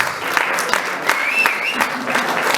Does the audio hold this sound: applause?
yes